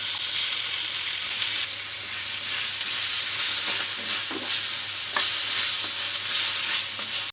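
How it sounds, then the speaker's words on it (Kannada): Two medium potatoes, peeled and cut into small pieces, are tipped into a pan for potato and capsicum palya and fry with a steady, close sizzle, with a few stirring scrapes partway through. "ನಾನಿಲ್ಲಿ 2 ಮೀಡಿಯಮ್ ಸೈಜ್ ಆಲೂಗಡ್ಡೆನ ಈ ಥರ ಚಿಕ್ಕ ಚಿಕ್ಕದಾಗಿ ಕಟ್ ಮಾಡ್ಕೊಂಡಿದ್ದೀನಿ, ಸಿಪ್ಪೆ ತೆಗೆದು ಅದನ್ನು ಹಾಕ್ಕೊಳ್ತಾ ಇದ್ದೀನಿ."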